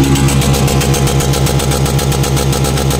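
Raider 150 Fi motorcycle with a Reborn canister exhaust at full throttle, a loud, steady, close-up engine roar with a fast pulsing rasp that holds constant throughout.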